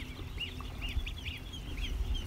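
Repeated honking calls of geese at a moderate distance over a steady low rumble, several calls spaced through the clip.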